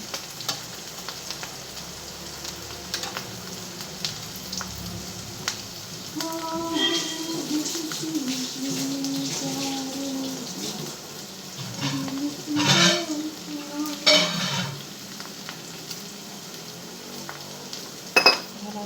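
Boiled potato sabzi with red chilli, turmeric, salt and black masala frying in a pan while a spoon stirs it, giving a steady close sizzle broken by scraping and clinks of the utensil against the metal.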